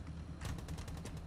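Gunshots in the mobile battle royale game Rules of Survival, heard during a clan finals match: a quick burst of several sharp shots in rapid succession, fairly faint and mixed into game background noise.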